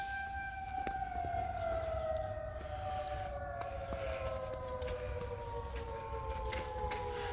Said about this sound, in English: Tornado sirens, guys.